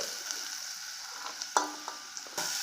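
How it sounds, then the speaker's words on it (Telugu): Mixed vegetables with tomato fry in a pan over high heat for a vegetable ragi soup, giving a quiet, steady sizzle broken by a few soft stirring clicks and pops. "ఇలా హైలోనే పెట్టుకొని బాగా ఫ్రై చేసుకోవాలి అన్నమాట"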